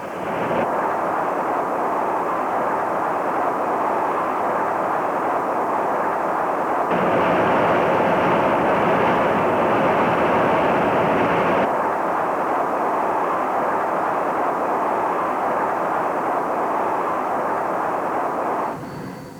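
An AWACS electronic surveillance aircraft flies with a steady, loud, broadband jet roar that swells briefly midway and then holds constant, with no voices.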